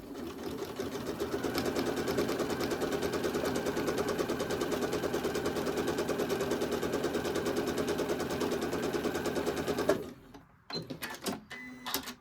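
A sewing machine stitches a fabric tea wallet in a steady, fast mechanical whir for about ten seconds, then stops, leaving a few faint clicks and rustles.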